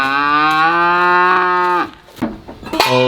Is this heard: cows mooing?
yes